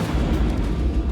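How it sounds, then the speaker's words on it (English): A heavy, rumbling blast from demolition charges set on two tower blocks rolls on as a dense low boom, loud and sustained over the short stretch without voices. "big noise, big explosion"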